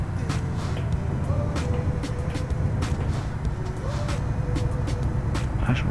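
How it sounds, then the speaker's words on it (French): A heavy truck engine braking on a narrow Tunisian road in Euro Truck Simulator 2, a low rumbling drone with shifting pitch and sharp clicks, while someone speaks over it. "On va utiliser le frein moteur pour ici par contre."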